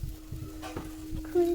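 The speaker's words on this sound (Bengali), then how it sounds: "শাক ভাজা হয়ে গেছে।" Leafy greens fry in a pan, a soft sizzle broken by short scraping stirs of a spatula, close and fairly quiet, with a faint steady hum throughout.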